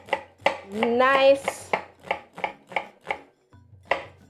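An onion, white or red, is sliced with a knife on a board. The blade strikes in a steady, close rhythm of about a dozen crisp taps, with a brief voice speaking partway through.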